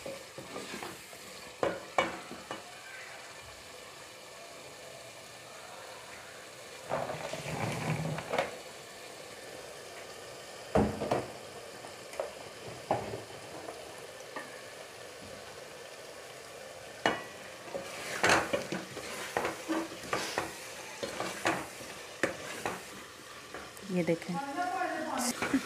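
Onions cook in a pan for green chana masala over a soft, continuous sizzle, with repeated bursts of spoon scraping and stirring throughout.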